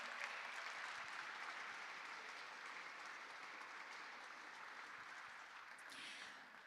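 A large audience at an award ceremony applauds warmly, a dense, steady wash of clapping heard from a distance that holds for several seconds and tapers slightly at the end.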